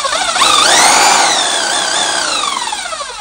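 Electric impact wrench spinning freely with no load in reverse, a loud steady motor whine that rises quickly, holds, then winds down slightly toward the end.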